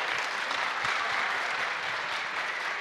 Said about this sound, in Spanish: Vamos a aplaudir un poco más, aplausos